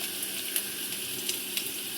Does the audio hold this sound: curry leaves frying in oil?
yes